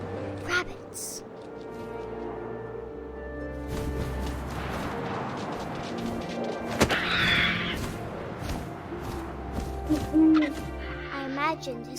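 Owl hooting in the video game What Remains of Edith Finch, repeated calls rising over game music and wind, with a narrator talking throughout.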